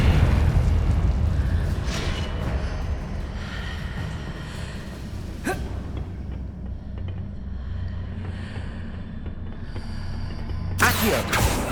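Confringo and Incendio spell blasts in Hogwarts Legacy, a string of booming bursts and crackles over a rumbling game background, with a sharp burst near the end.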